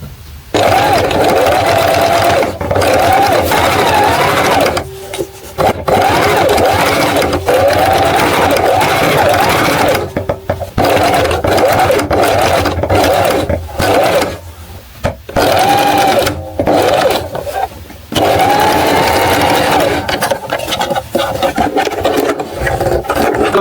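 Electric sewing machine stitching a detachable shirt collar, running loud and steady in long bursts with brief pauses between seams, whirring motor and rapid needle chatter close up.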